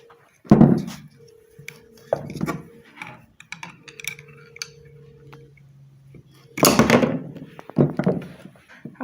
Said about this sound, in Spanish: Bien, ahora le voy a quitar el ventilador.